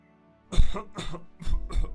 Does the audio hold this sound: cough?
yes